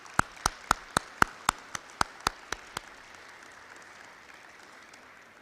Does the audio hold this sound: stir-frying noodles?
no